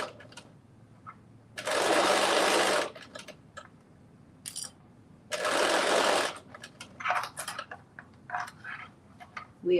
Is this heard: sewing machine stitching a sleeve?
yes